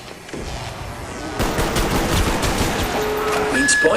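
Dense bursts of gunfire in a zombies game on the Moon map, with an M1 among the weapons, start after a quieter opening and carry on loud and rapid to the end.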